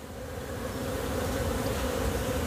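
Honey bees swarm around a beehive frame heavy with honey, their buzzing a steady, dense, close drone that holds at one even level throughout with no voices over it.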